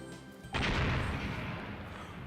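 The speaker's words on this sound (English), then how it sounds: "That was a Smash Brothers explosion." Loud explosion sound effect from the Apollo Justice courtroom game, bursting in abruptly after a short lull and then roaring on as a broad, sustained rumble.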